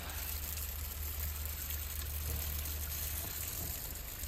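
Irrigation water flowing steadily over cabbage plants in a field, a continuous soft broadband rush with a low rumble, as from a pump, holding even throughout without any talk.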